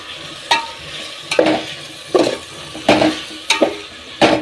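A spoon stirs tomatoes frying in a pan for red chilli chicken coconut curry, six scraping strokes about a second apart, each over a bright sizzle.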